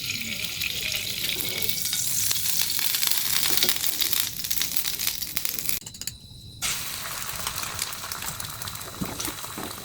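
An egg roll fries in a pan with continuous loud sizzling and crackle, scraping and stirring throughout, with a brief quieter break partway.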